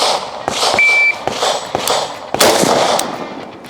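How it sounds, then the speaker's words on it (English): Gunshots on an outdoor shooting range, about six sharp, loud cracks spaced unevenly and fairly close, each trailing off with a brief echo, plus a short electronic beep near the start. "we've pulled the trigger and actually fired some rounds down range"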